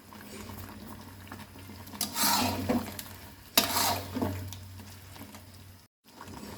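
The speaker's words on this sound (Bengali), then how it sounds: "এখন আমি 5 ফোড়ন দিয়ে দেব।" Panch phoron whole spices tipped into hot oil in a pan while making mango pickle, giving two bright bursts of sizzling and crackling with stirring between them, then a brief drop to silence.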